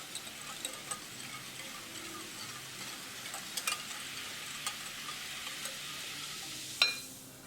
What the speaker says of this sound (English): With the whisk, just mix it.